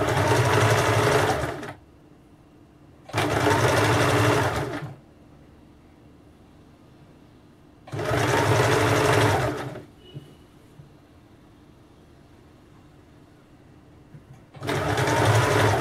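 A sewing machine stitches a blouse in three bursts, each a couple of seconds long and close and loud, with a fourth starting at the end and quiet pauses between them.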